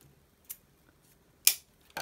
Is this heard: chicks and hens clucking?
no